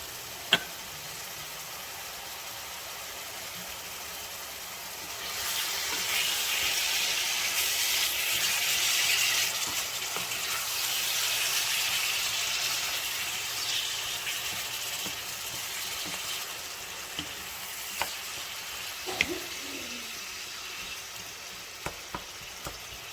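Meat browning in a pan for stuffed Doritos gives a steady sizzle that swells louder in the middle stretch, with a few sharp clicks and clatters of utensils near the end and no talking.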